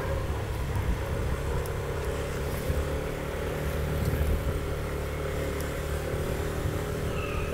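A Honda Spacy Alpha scooter engine runs steadily throughout, a continuous low droning hum with a constant rumble, close and fairly loud with no talking.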